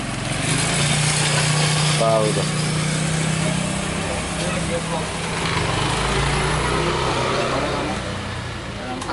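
A motorcycle engine runs close by at a steady idle while being worked on next to a TV repair bench, a constant droning buzz under loud ambient noise, with a brief spoken remark.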